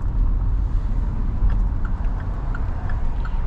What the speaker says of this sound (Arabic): حاليا نسوي تجربة قيادة عليها مع العزل